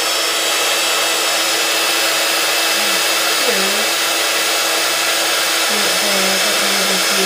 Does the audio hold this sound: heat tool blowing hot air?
yes